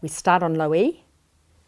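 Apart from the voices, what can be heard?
No everyday noises stand out.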